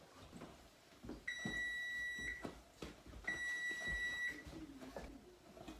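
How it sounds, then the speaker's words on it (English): Kitchen timer beeping in a home kitchen while Michigan hot dog sauce cooks, two long steady electronic tones about a second each, close and clear over faint room noise. "So the timer's done"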